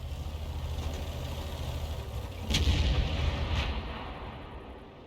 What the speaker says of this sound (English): He's been hit by enemy Arty fire